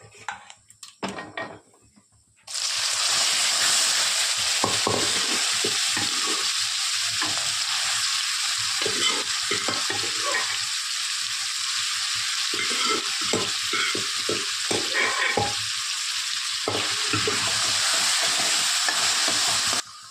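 Grated carrots sauté and sizzle loudly in a hot pan with cardamom for carrot halwa, a steady frying hiss under frequent scraping and stirring clinks of a spoon against the pan, beginning after a few quiet seconds.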